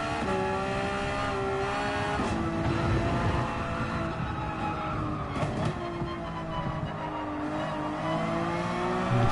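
A Porsche 911 GT3R race car in Gran Turismo 7 during an hour-long race at Lake Maggiore, its engine droning loud and steady throughout, the pitch rising and falling through gear changes.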